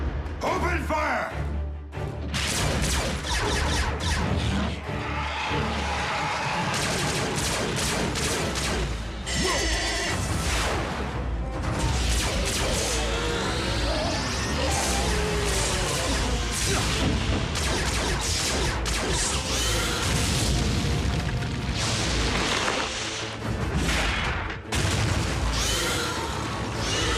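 Gunfire and explosions from an animated Transformers: Prime episode crash loudly and continuously through dense battle noise and score, with shouting voices mixed in.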